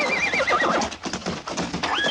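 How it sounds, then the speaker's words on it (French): Several horses whinny and neigh loudly in quick succession, with hooves clip-clopping underneath, in a 1970 French-dubbed western comedy scene. "Vite, les chevaux, Mortimer!"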